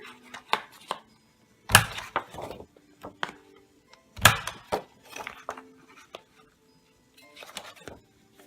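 Sharp, close cuts and clicks as paper stationery corners are trimmed round, irregular snips and taps with a couple of louder hits and quiet gaps between them.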